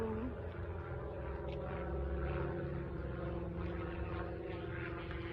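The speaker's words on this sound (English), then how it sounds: "Okay, so it's a little airplane. That's what I thought it sounded like." Small two-person propeller airplane passing overhead, a steady distant droning hum that holds at an even, faint level throughout without voices.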